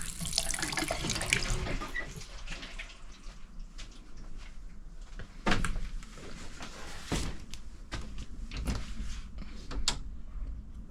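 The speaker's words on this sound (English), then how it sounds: "There's water." A bathroom tap runs in a newly built timber house in Naivasha, Kenya. Water splashes steadily into a basin, with a few clicks and knocks near the end and no speech.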